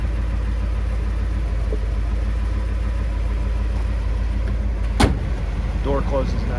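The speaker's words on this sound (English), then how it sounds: "Door closes nice." A restored 1957 Ford Thunderbird's door shuts with a single solid thunk over a steady engine rumble, followed by faint distant sounds.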